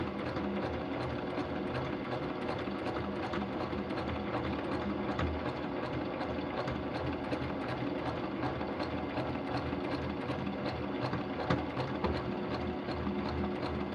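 A sewing machine stitches continuously at a steady, rapid mechanical rhythm, close by, with no pauses.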